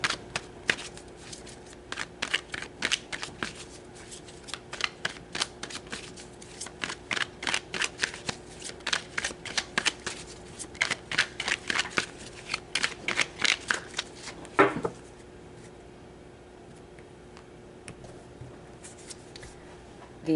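A tarot deck is shuffled by hand in a steady run of crisp, rapid riffling clicks for about fifteen seconds, then goes quiet.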